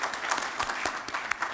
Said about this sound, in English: a round of applause also for an excellent, incredible panelists who've given us so much to think about.